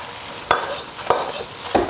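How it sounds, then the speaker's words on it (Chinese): Pork strips stir-fry in a wok with ginger, garlic slices and aged red-oil chili bean paste, a soft frying hiss broken by three sharp scraping stirs of the spatula at regular intervals, close up and without talk. "8成熟，下一点姜蒜片， 稍微来一点点2年陈酿的红油老豆瓣儿，"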